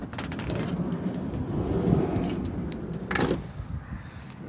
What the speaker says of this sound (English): We come up and enter through the sliding door.